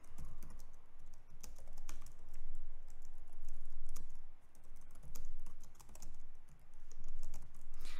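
Rapid, close typing on a computer keyboard while writing C++ code, a steady clatter of keystrokes in uneven bursts with no speech.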